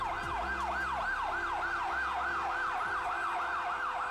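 Repeating wail of a police siren from LAPD cars closing in on a building, set in a Blade Runner tabletop role-playing scene; a steady, loud rising-and-falling cycle roughly every third of a second, with a low rumble underneath.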